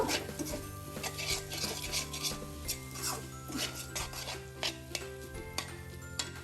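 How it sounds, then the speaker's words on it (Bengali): Capsicum for Korean ramen is stirred in a pan, giving faint, repeated rubbing and scraping strokes of a utensil against metal over a low background hum. "ক্যাপসিকামটা দিয়ে এখন নাড়া দিব"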